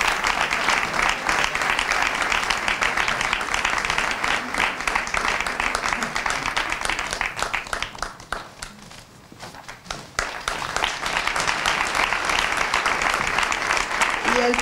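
An audience at a jota singing contest in Funes, Navarra, applauds the young performers during the awards, with loud, close clapping that briefly thins out midway before swelling back to full strength.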